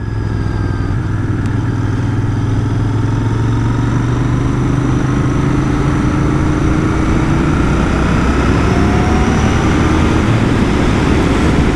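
A Royal Enfield Continental GT motorcycle engine while riding, a loud, close, continuous thrumming drone with slowly rising pitch, steady throughout with wind rush and no talk.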